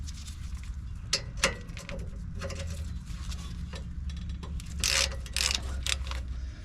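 A 1/2 inch drive ratchet works loose a size 12 brake caliper bolt on a Toyota Sequoia. Scattered clicks and short grinding bursts sit over a low steady hum and come in a few separate efforts, with no talking.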